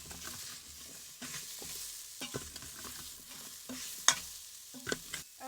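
Sliced carrots, about a cup, sautéing in an Instant Pot on the sauté setting, with a soft steady sizzle broken by a series of short scraping stirs and one sharp clink near the end, no voices.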